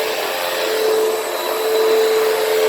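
A Hoover Windtunnel upright vacuum cleaner runs on carpet, picking up ordinary dirt with a loud, steady whine and a constant motor tone close by, with no talking.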